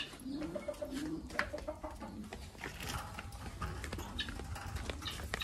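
Pigeons coo and flutter amid a busy, cluttered outdoor scene with scattered clattering and tapping sounds, no talking.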